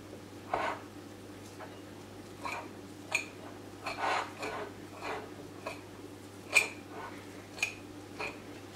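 White cheese being mashed finely with a fork for haydari, a yogurt meze: soft, scattered scraping and tapping strokes against a bowl, close and quiet, arriving in irregular bursts over a low steady hum.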